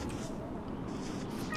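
A cat-like creature in Don't Starve Together meows over ambient game sounds, with a voice talking alongside it at moderate level.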